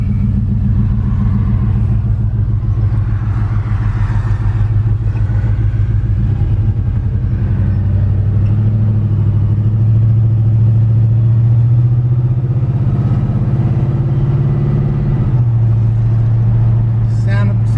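A 1955 shop truck's engine drones on its first test drive, a loud steady low rumble whose pitch rises and falls with gear changes, with someone talking over it throughout.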